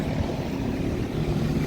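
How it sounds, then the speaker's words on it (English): Industrial exhaust fans at a commercial HVAC site run with a continuous dense roar and low rumble, steady and loud throughout with no talk. "Exhaust fans running."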